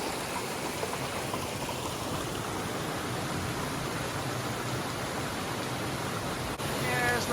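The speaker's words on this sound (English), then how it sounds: "Here's the waterfall view from the other side of the crossing." A waterfall along the Appalachian Trail, seen from beyond a stream crossing, gives a steady, dense broadband rush that stays even and fairly close throughout, with no voices over it.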